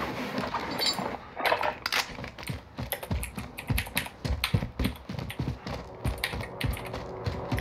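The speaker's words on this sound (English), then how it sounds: "I was spamming my fucking keyboard" Rapid, irregular keystrokes hammered on a computer keyboard during an online shooter game, clattering in dense bursts close to the microphone with brief pauses between flurries.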